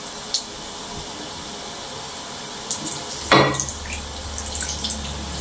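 Water is poured off tubers being washed, heard as a steady wet hiss with a sudden splash midway and a few small clinks.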